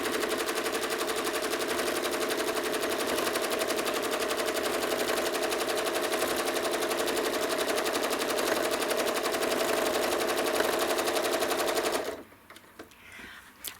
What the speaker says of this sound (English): I'm stitching these rows approximately 1/4 of an inch apart